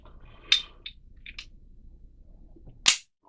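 Removing the chamber indicator from a Springfield XDM 9mm competition pistol: a sharp metallic click, a few faint small ticks, then another crisp snap, close by and quiet between, with no talk.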